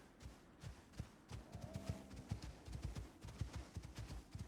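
Horse hooves gallop in a steady, rapid clip-clop rhythm in the survival game Icarus, close and continuous across the whole stretch, with no talking over them.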